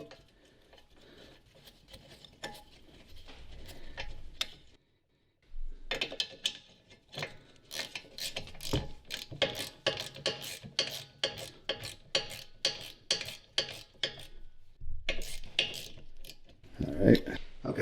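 Bolts being tightened with a ratchet during brake service on a 2019 Chevrolet Equinox, a long series of close, sharp clicking bursts in uneven rhythm with short pauses, and brief talk between them.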